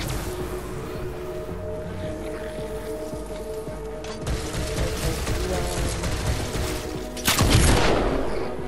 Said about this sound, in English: One headshot, two headshot, shotgun shot.